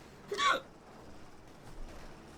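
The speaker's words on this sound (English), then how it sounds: "Oh, my apologies there, got hiccups." A single sharp hiccup, close and fairly loud, followed by a fainter catch of breath over quiet background.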